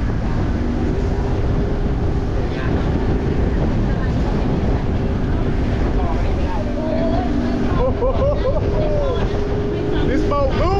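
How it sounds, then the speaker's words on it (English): A speedboat engine off Pattaya Beach revs up under heavy, buffeting wind noise against the microphone, with water rushing close by and a rising whine toward the end. "He's speeding the boat up now."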